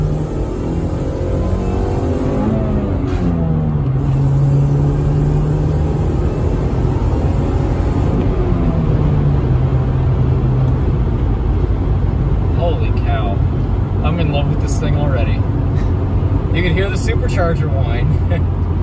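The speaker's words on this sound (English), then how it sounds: "Supercharger whine." A 2005 Chevy Cobalt SS engine revs hard toward redline with supercharger whine, heard from inside the car as a loud, sustained roar whose pitch climbs and falls in sweeps.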